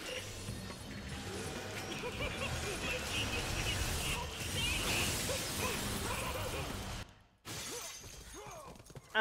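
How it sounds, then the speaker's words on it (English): Glass shattering in Devil May Cry, a loud crashing burst with scattering fragments that lasts several seconds amid game effects, ending in a sudden cut to near silence before a short return of sound. "I broke glass."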